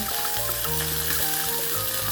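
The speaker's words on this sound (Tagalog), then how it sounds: "kumukulo-kulo na po yung tubig" Steady bubbling and sizzling of water boiling in a cooking pot on the stove, continuous and fairly loud, with a low hum underneath.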